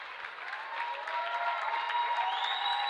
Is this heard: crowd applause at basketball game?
yes